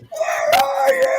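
A person screams in a long wavering cry, imitated by a player's voice during a tabletop role-playing game, loud and close with faint chatter behind.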